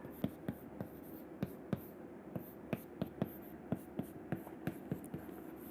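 Chalk or pen writing out an equation during a physics lecture on terminal velocity: a run of sharp, irregular taps and short strokes, close and fairly quiet over a soft room hiss, with no talk.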